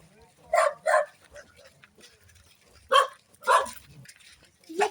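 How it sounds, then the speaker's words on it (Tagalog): Dogs bark at a house in a rural neighbourhood in Nueva Ecija, Philippines. A pair of sharp barks comes first, then more single barks a moment later, with quiet pauses and some faint talk between them. "Ay, may mga aso. Ang daming aso."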